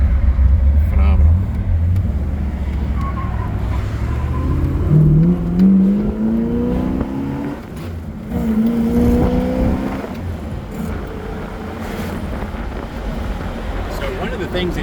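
A 1967 Pontiac GTO with a 400 engine and four-speed manual roars as it accelerates hard through several gears, pitch climbing and dropping with each shift, with wind noise and a voice talking over it.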